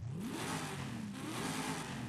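A 6.2-litre V8 car engine revs in Forza Horizon 5, its pitch climbing steadily in a loud, continuous drone with no talking.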